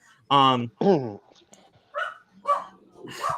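A household dog barks indoors during a wrestling podcast, giving two loud, close barks followed by softer yips and whines.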